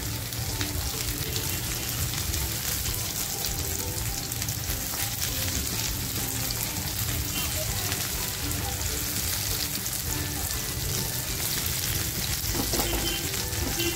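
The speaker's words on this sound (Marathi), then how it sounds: "टोमॅटो जो कापून घेतला होता तो टाकते आता" Chopped tomatoes fry in hot masala for Afghani egg masala, giving a loud, continuous, dense sizzle like heavy rain that holds steady throughout, close up, with faint indistinct voice traces underneath.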